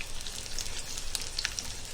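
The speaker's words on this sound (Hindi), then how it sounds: "ये देखो हमने तेल रखे, तेल गरम हो गया। अभी इसके अंदर हमने लहसुन, करी पत्ता, अदरक थोड़ा थोड़ा डाले।" Garlic, curry leaves and ginger sizzling in hot oil in a pan, a soft continuous crackle with scattered sharper pops, close and fairly quiet.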